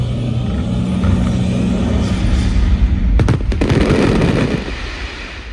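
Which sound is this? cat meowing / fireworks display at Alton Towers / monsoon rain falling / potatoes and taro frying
fireworks display at Alton Towers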